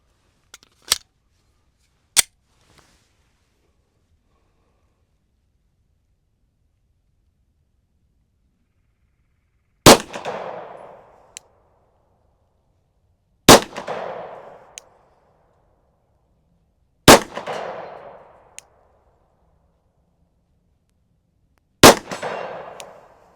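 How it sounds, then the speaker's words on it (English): Pistol shots from a Glock 19 and a SIG P365 strike a big steel gong at 50 yards: sharp cracks, several followed by a ringing metallic clang that decays over a second or two, spaced several seconds apart. "Now we're going to go out to 50 yards on the big gong"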